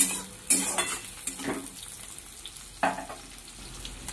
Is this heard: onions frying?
yes